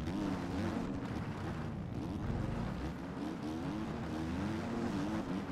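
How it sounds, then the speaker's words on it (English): A Kawasaki motocross bike engine revs hard in MX Bikes racing, a continuous loud buzzing whine with rising and falling pitch, blended with other bikes nearby. "Guy on the Kawasaki's ripping."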